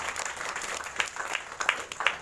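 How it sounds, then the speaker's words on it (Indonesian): A church congregation at a Feast worship gathering applauds, a short burst of fairly soft, steady clapping with a few sharper individual claps near the end. "Kasih tepuk tangan untuk Tuhan."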